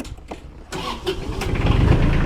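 An Iseki TK 25 compact tractor's diesel engine cranks briefly with a few sputters, then catches and settles into a steady, close, loud idle that builds in strength over the last second.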